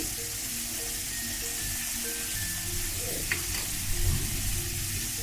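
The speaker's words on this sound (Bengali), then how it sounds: "মাংস আমি হালকা করে ভেজে নিয়েছি এবার এটা দেবো অল্প করে পেঁয়াজ কুচি" Lightly fried meat and chopped onion frying in oil in a pan, giving a continuous close sizzle with occasional stirring scrapes and a louder burst near the end, with no voices.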